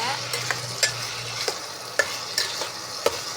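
Spices for chicken curry fry and get stirred in a hot pan, a steady close sizzle with sharp spoon scrapes and clicks landing about every half second.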